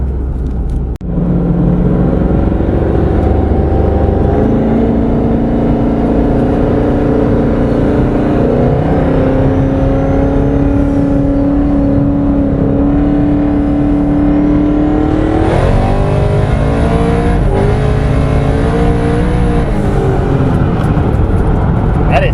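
Twin-turbo Ford Mustang S550, freshly rebuilt and on pump gas, pulling hard from about 70 mph in a long continuous acceleration with a rising engine note, then an upshift and another climbing pull, heard loud from inside the car.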